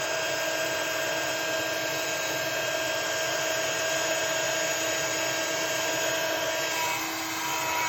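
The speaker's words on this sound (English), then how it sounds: "we're going to move that heat gun over the image like so" Heat gun blowing steadily over a card to melt embossing powder into a metallic silver finish, a continuous loud whooshing hum with no pauses and no talking.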